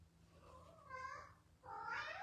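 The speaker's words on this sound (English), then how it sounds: "Tell me what's wrong with my kitty or my mama cat." A mother cat gives two drawn-out meows in a quiet room, the second louder and rising, over a low steady background hum.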